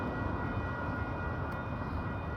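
A city train rumbles past nearby, a steady, dense roar with a faint high tone riding over it, loud and continuous throughout with no voices.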